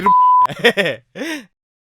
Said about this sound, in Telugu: ఇక్కడ బీప్ పడింది